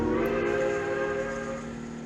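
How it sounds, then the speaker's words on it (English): A steam-style train whistle from the railway game Trainz (TANE) sounds as a loud, sustained tonal blast with steady harmonics, holding for the whole moment over a faint rumble of rail noise. "Hey, I just heard a whistle."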